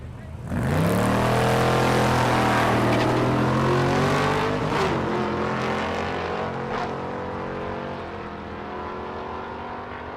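Chevy Nova and Chevelle drag cars launch side by side at Thunder Valley in Noble, Oklahoma, their engines erupting into a loud, sustained roar that climbs in pitch through the gears and fades slightly, with an announcer's voice faintly in the mix.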